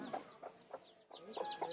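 Chickens in a poultry farm cluck in short, repeated bursts at close range, with a few overlapping calls and no talk.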